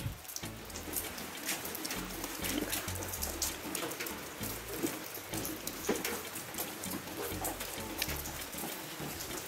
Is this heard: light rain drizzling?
yes